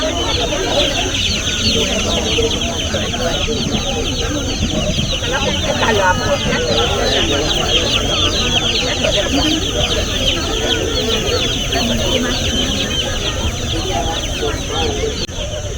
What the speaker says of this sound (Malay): Anak ayam warna-warni.